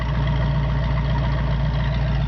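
A 1966 Ford Mustang convertible idles with a steady, deep exhaust rumble, a low, even burble holding at a constant loud level throughout.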